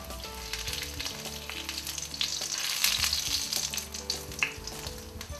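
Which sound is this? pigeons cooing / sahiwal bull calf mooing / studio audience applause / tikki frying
tikki frying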